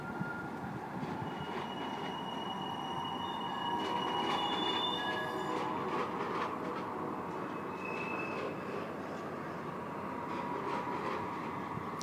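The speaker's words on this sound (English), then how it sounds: "Okay, I think it's the Union Pacific out there." A Union Pacific freight train heard from overhead at a distance: a steady rumble of rolling rail cars with intermittent high wheel squeals, continuous and fairly faint, with no speech.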